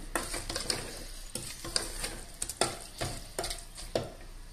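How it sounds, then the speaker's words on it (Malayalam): Salt is stirred into a meat mixture for parboiled-rice irachi chor biryani in a pan, making quiet, rhythmic scraping strokes over a faint sizzle. "ഒരു ടീസ്പൂൺ ഉപ്പ് ചേർത്ത് കൊടുത്ത് മിക്സ് ചെയ്യാം."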